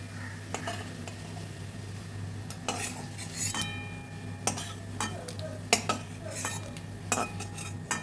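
Boiled prawns lifted from a cooking pan, with scattered clinks and scrapes of a utensil against the metal over a steady low hum, sharp taps recurring every second or so.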